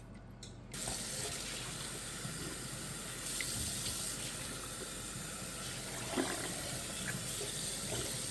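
Tap water runs hard into a kitchen sink while a 12-pound turkey is rinsed, a steady close splashing rush that starts after a brief quiet moment and continues throughout.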